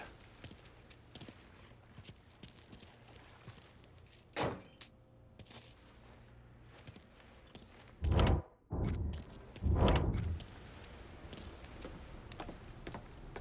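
Keys jangle in Mafia 3, a few loud metallic rattling bursts spaced apart, close to the listener, over a quiet game background with no talk.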